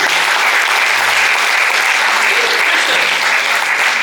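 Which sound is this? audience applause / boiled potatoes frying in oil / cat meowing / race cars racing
audience applause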